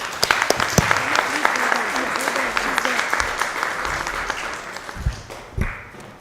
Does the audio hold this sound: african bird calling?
no